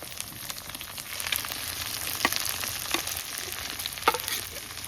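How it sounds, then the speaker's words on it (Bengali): Onions frying in a pan until nearly golden-brown, giving a steady soft sizzle with a few sharp utensil clicks near the end. "পেঁয়াজ তো বেরেস্তা হয়ে যাচ্ছে প্রায়, না ভাজা হয়ে গেছে।"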